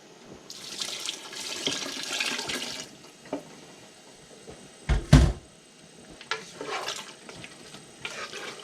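Vinegar and crushed tomatoes pour into a pot of homemade salsa, a soft wet splashing and gurgle, followed by a louder clunk of a container and more faint liquid sounds and stirring, with no talking.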